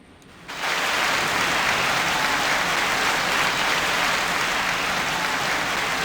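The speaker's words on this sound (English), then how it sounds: "I have to wait for the applause to conclude." Loud, steady applause from a large crowd starts abruptly after a brief quiet moment and keeps going at full strength without letting up.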